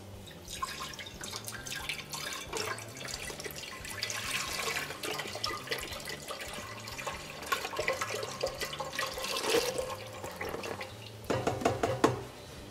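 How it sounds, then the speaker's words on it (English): Vegetable stock is poured into a pot of vegan gumbo, giving a steady liquid splashing and dripping that runs throughout at a moderate, close level, without speech. "We're going to add vegetable stock."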